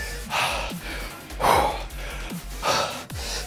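Heavy breathing during a bodyweight home workout: about four sharp, loud gasping breaths come in a rough rhythm close to the listener, with quieter exhales and low thumps between them.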